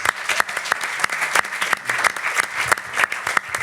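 An auditorium audience applauds brother Franck, steady close clapping with sharp individual claps standing out in a quick, rhythmic patter.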